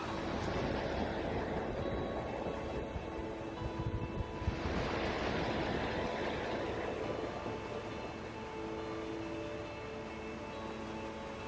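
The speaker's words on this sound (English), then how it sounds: "you come to this stream/swimming hole." A stream at a swimming hole in Sequoia National Park, a steady broadband rush of flowing water with some wind noise on the microphone, continuous and fairly loud throughout, no voices.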